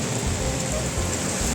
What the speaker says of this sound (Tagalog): nakasilong kami, umuulan kasi ngayon